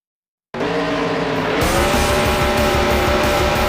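Race cars roar in the Andretti Racing video game, a loud continuous engine drone with tire squeal that starts abruptly after a brief silence, then shifts to a lower, steadier note as the field comes off the final corner.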